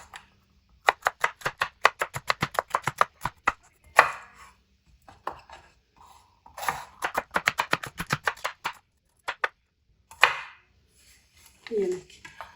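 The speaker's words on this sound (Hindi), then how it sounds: "इस तरह इसकी कटिंग हमने इस तरह करनी है।" Knife cutting dough on a board in rapid bursts of crisp chops, several quick runs of evenly spaced strikes separated by short pauses, close and fairly loud, a brief voice near the end.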